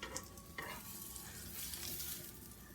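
Red velvet French toast sizzling steadily in a hot pan just after being flipped, a close, continuous frying crackle with a couple of sharper spatters and no voices.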